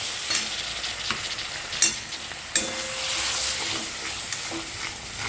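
Spice paste for Bengali fish curry being stir-fried in a pan, a soft sizzle broken by a few sharp scrapes and knocks of the spatula, close and without talk.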